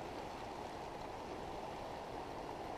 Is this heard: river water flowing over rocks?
yes